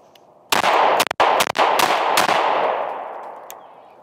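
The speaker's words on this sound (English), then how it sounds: "if you want to do any kind of one-handed shots" About five sharp, loud pistol shots from a Smith & Wesson M&P 5.7x28 fired one-handed in quick succession, each ringing out, with a long fading echo after the last.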